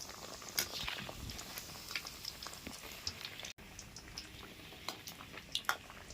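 Bread egg tikki fries in hot oil with a quiet, steady crackle and scattered pops, low and close with no talk over it.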